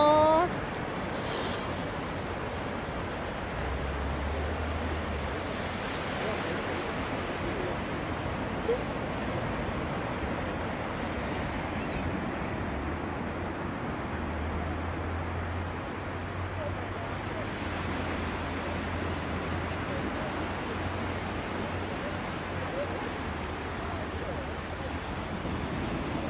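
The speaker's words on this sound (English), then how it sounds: "They just needed a little ocean wave to come in and take them out there." Ocean waves washing in at a beach, heard as a continuous soft, broad wash of surf with low wind rumble, steady and moderately distant throughout.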